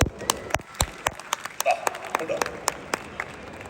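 Crowd clapping at a film team's stage event in Abu Dhabi, rhythmic distinct claps in a steady beat, roughly three per second, over a faint murmur of voices.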